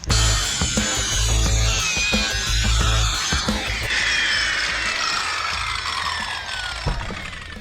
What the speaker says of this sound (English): using a skill saw or, circular saw to cut those angles